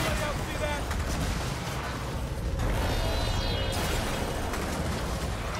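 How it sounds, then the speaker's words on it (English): Rapid sustained gunfire pours out as robots are shot in Gears of War 4, a dense, loud mechanical rattle with impacts running continuously throughout, with speech mixed in under it. "Busy shooting robots."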